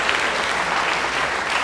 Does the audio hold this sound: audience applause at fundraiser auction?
yes